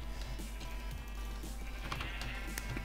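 Sheep bleat in a multiplayer video game minigame, several wavering calls rising and falling over a steady background hum, fairly close and moderately loud, with no talking.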